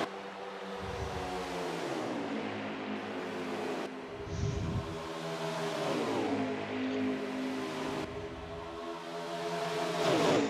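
Race cars battle for the lead at Michigan International Speedway in a 400 race, their engines droning and revving in repeated rising and falling sweeps as they pass, moderately loud and continuous.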